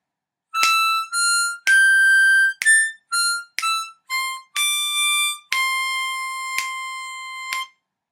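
A harmonica plays a line of Twelve Days of Christmas as a sequence of about ten clean, pure-toned single notes, short ones first and a longer held phrase at the end, close and alone.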